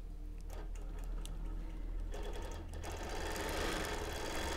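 A sewing machine quilts a baby quilt with minky backing, its needle running in a steady fast ticking rhythm, close and continuous, picking up speed and growing fuller toward the end.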